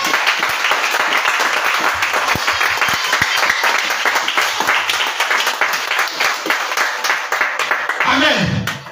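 A church congregation applauds to acclaim Jesus during a sermon, with dense, loud clapping that is sustained throughout and mixed with crowd voices.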